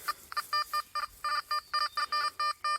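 A Nokta Find X metal detector signals a target with a rapid series of about a dozen short, clear electronic beeps in an uneven rhythm, close and fairly loud with no talking.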